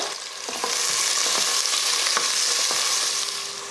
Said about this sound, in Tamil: பிரியாணிக்கு எப்பயுமே பார்த்தீங்கன்னா வெங்காயம் இந்த அளவுக்கு நல்ல பொன்னேரமாக வதங்கணும்